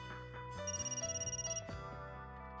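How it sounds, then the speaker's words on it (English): A cheerful ringtone melody rings out in the Sonicomi video game, a steady pulsing phone ring over soft background music, lasting about a second before the music carries on alone. "Oh, that's my phone."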